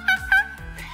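A person imitates a monkey with high, squealing hoots in two quick bursts, then a lower vocal call, loud and close with no other sounds.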